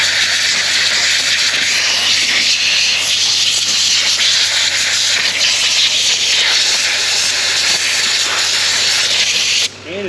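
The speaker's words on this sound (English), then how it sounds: "a little bit of air pressure. It's gonna blast away any residual corrosion that's in there." Compressed air blasts steadily from a nozzle to clear residual corrosion inside a Ford Mustang GT 4.6 engine part, a loud continuous hiss lasting nearly the whole stretch before cutting off abruptly at the end.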